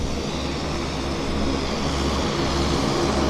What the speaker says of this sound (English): We've got an aircraft landing as well.